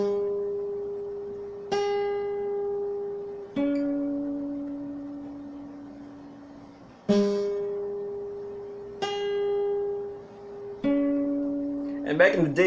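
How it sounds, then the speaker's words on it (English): Guitar sounding the tritone, the so-called devil's chord, in several separate strums that ring out and decay one after another, alone with no talking over them. "so the devil's chord sounds like this."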